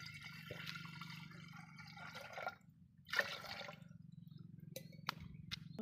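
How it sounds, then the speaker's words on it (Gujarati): Water runs and splashes into a metal pressure cooker in short bursts, with a low hum beneath and a couple of sharp clinks near the end. "કુકર એમાં નાખી દઈશું આપણે પાણી"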